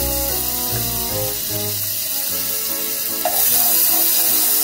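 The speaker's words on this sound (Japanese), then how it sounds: "サラダ油を敷いて、おろしニンニクを入れて香りを出します" Grated garlic frying in salad oil in a wok over medium-high heat for shrimp fried rice, a bright continuous sizzle with occasional stirring scrapes, growing a little louder toward the end.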